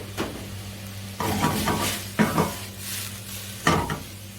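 Llama meat stir-fries with carrot and zucchini in a pan, a soft ongoing sizzle broken by several distinct bursts of stirring and scraping, close and fairly loud.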